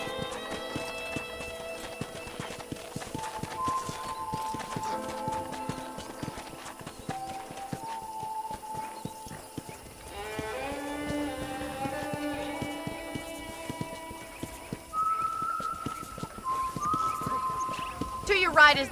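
In the western video game Red Dead Redemption, a horse's hooves clip-clop in a steady rhythm across the ground, running beneath tonal game music throughout.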